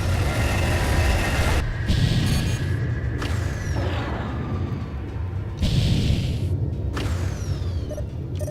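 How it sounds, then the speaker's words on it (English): Jump drive activating on a warship in the space combat game Freespace 2, a loud sustained rumble with sweeping whooshes and surging bursts over a steady low drone. "Activating jump drive now."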